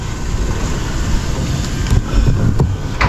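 Gusty wind rushes across steel scaffolding at a welding job site, a loud, broadband roar that swells and buffets against the microphone, with a few sharp knocks near the end and no talking.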